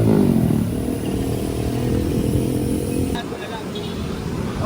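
A motorcycle ridden by a woman on the road to Baños passes close by, its engine loud and revving over steady traffic rumble, with people talking throughout.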